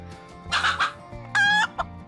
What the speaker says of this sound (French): En haut d'une clôture, une poule fière cacta.